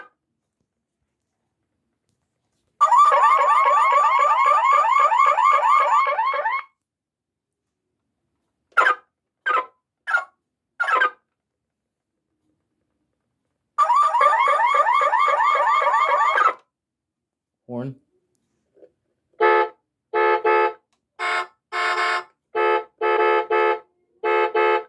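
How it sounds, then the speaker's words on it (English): A toy Road Rippers Chrysler PT Cruiser convertible concept plays its electronic car alarm: loud warbling siren bursts alternating with short chirps and beeps, separated by silent gaps, close and clear. "Alarm."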